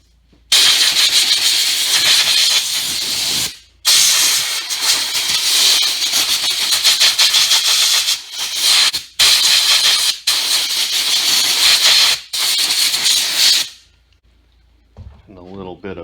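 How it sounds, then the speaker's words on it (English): Compressed air hisses in long, loud bursts onto a lawn tractor seat during a repair, with short pauses between blasts before it cuts off and a voice begins speaking. "I'm going to hit that with just a little compressed air."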